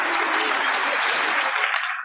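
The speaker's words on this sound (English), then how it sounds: "Give these people a round of applause" Brief burst of loud, dense audience clapping at an elementary school spring concert, close and continuous, then cutting off abruptly.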